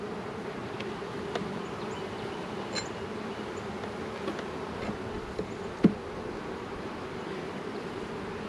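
Honey bees buzzing around an open colony during an early March hive inspection in North Carolina, a steady droning hum close by with occasional clicks and knocks of frames, no talking.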